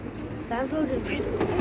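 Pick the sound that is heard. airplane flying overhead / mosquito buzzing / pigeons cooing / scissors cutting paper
pigeons cooing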